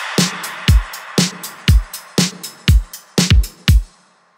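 A punchy programmed beat in FL Studio: LinnDrum-style kick and snare, a 707 snare, a clap and an exhaust sample. Booming kicks alternate with bright snare and clap hits in a steady, loud loop with no voices.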